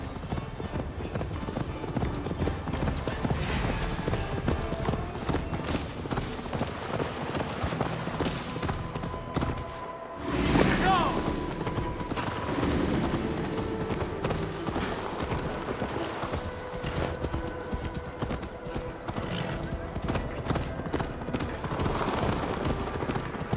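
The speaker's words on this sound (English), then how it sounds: "Faster, Eivor! Ride like Sleipner's hoofs! Your horse is slow, and her rider's drunk" Horses gallop across open ground in Assassin's Creed Valhalla, a continuous rhythmic clatter of hooves close by, with a brief pause midway, as game voices talk over the riding.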